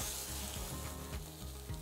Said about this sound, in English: when you are pan-searing tuna, there's many ways you can do it